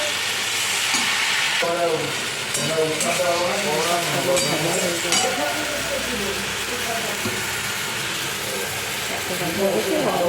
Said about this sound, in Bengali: সেই জন্য শাকটা একটু ভেজে নিচ্ছি হালকাই ভাজবো খুব বেশি ভাজবো না